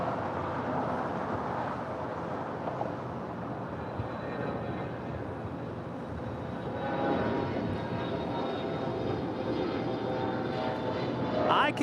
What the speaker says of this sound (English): That is Virgin Atlantic Flight 7 coming in from London up there on the north side